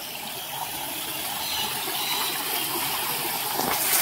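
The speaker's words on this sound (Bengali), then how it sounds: "দেখতে পেয়েছি, এখানে সুন্দর একটা ঝর্ণা।" Water from an ornamental fountain at a historic site in Murshidabad rushes and splashes in a steady, even wash of sound that swells slightly, heard alone without voices.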